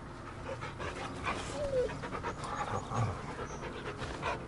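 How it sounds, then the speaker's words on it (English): A dog in Final Fantasy XVI pants steadily while being petted, quick rhythmic breaths with a brief whine, close and clear over a soft game soundscape, with no talking. "but you can pet the dog."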